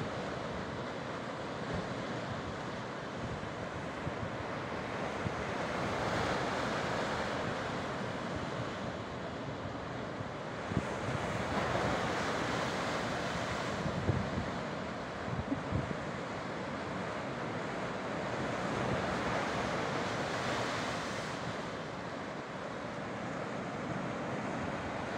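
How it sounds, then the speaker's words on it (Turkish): Sea waves wash onto the shore at Aytep beach in calm weather, a steady close surf hiss swelling and easing in slow surges, with no talk. "Bugün rüzgar yok, sadece denizin sesi geliyor."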